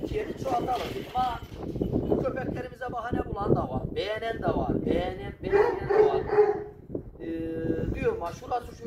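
Several dogs bark and yip repeatedly, mixed with a person talking; the barks come close and loud in uneven bursts.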